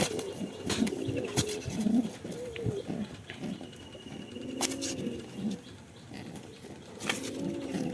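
Giribaj pigeons in a rooftop loft in Bangladesh give repeated soft cooing calls close by, with wing flutters and scuffling sharp taps scattered among them, and no talking.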